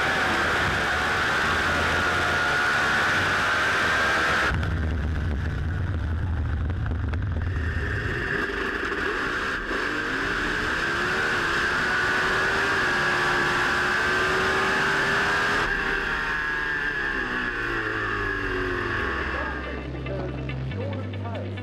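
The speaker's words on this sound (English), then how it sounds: "All the cars returning to the pits." Pro Mod drag racing cars at a British Drag Racing Championship round roll back toward the pits, a steady engine drone with shifting tones and abrupt changes in level, continuous and fairly loud throughout.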